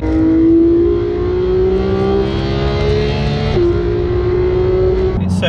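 A Porsche GT3 with a PDK gearbox accelerates hard, its engine note climbing loud and close, then drops sharply on a rapid gear change and climbs again.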